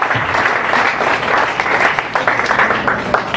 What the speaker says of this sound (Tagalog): Huwag kayong mahiyap pumalakpak.